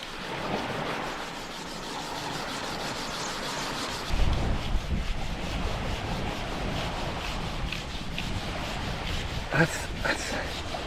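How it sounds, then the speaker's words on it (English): A split piece of bamboo, with tinder wedged in the middle, is rubbed rapidly against another piece to start a friction fire outdoors on an island. The scraping is continuous, harsh and close, and it grows louder and coarser about halfway through. "a split in the bamboo with tinder wedged in the middle. Rubbing it fast builds heat."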